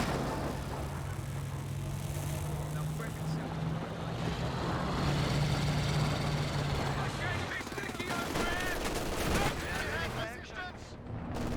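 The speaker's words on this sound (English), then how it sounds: "one little patch of S-mines going off there" Battle sounds from Company of Heroes 2 as S-mines go off: loud overlapping explosions and gunfire in a dense, continuous wall of combat noise, with a low engine drone beneath and a commentator talking throughout.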